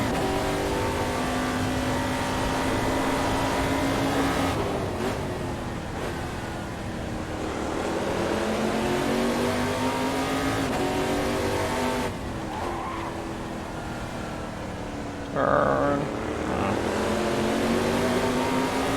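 A race car engine roars steadily on Sveg Raceway in a racing video game, loud and continuous with rising and falling revs through gear changes, tires squealing in places, no talking.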